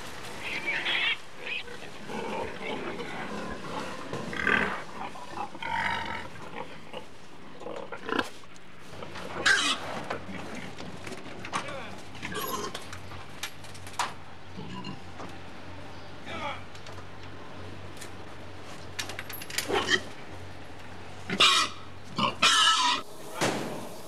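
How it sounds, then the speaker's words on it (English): Pigs on a farm grunt and oink in irregular bursts, some close and loud, others softer, with someone talking at times between and over the animal noises. "pigs will appear eventually on your breakfast table"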